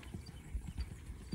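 A horse lopes along during a barrel-racing play day, its hooves thudding in a steady, soft rhythm of muffled beats at moderate distance with no talk over them.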